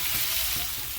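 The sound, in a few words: stirring raw mango pieces into frying masala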